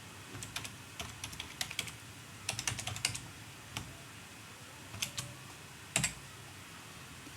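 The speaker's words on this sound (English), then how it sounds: "Again, I type the root password." Keystrokes on a computer keyboard, a password entered as scattered close clicks in small irregular clusters with short pauses between, ending in a firmer tap, over a faint steady background hum.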